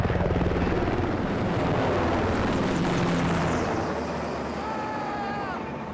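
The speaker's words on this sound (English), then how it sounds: "We brought in a couple HH-60 Pave Hawk helicopters." Steady heavy rotor roar of HH-60 Pave Hawk military helicopters close by, loud and continuous, slowly easing toward the end with a faint whine rising above.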